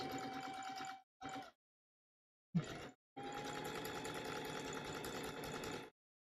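Sewing machine stitching coiled rope into a bigger rope basket, running in steady mechanical bursts: a long run, a short stop-start pair, then a sustained stretch of rapid stitching close by.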